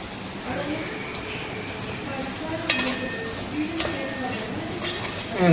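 Curry with curry leaves being stirred in a pot, a steady sizzle with scraping strokes of the spoon, while someone talks over it.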